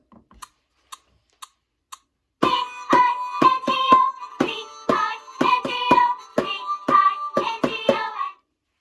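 Four light, evenly spaced taps count in, then sharp hand claps follow in a lively, uneven rhythm along with the children's song Bingo. The claps sound close and crisp, and no one speaks.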